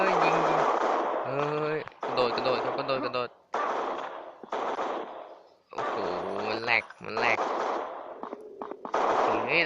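Rapid bursts of video game gunfire crackle through a shooter match, mixed with nearly continuous talk that sits over the shots for most of the stretch.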